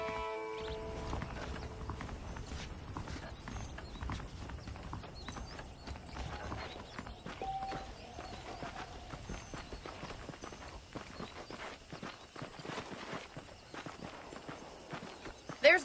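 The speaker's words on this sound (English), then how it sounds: "The horses are saddled up over here." Horses clip-clopping in the video game Red Dead Redemption, their hoofbeats mixed into a dense, continuous game soundscape of ambient noise and mechanical clatter, without clear separate steps.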